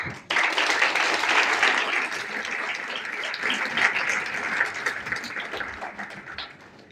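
Sustained audience applause at a women's empowerment ceremony as guests are escorted to the dais, a dense wash of clapping that starts abruptly, holds steady for several seconds and fades near the end.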